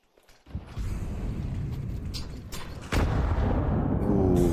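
A grenade goes off in a Counter-Strike match, a sudden deep rumbling blast that swells into a sustained roar, with a second heavy boom following about two seconds later, loud and close over game ambience.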